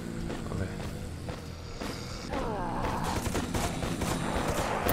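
Rapid turret gunfire in the video game Dead Sky, sustained bursts of shots that are loud and steady throughout, heavier in the second half, with a voice talking faintly underneath.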